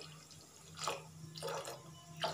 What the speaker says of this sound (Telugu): కొద్దిగా నీళ్ళు పోసుకోవాలి.